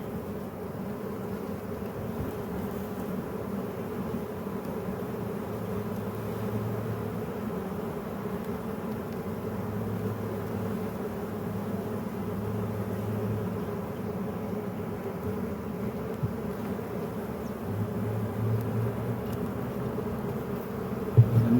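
Honey bees buzz around an open garden hive in November, a steady low drone that continues evenly throughout with no voices.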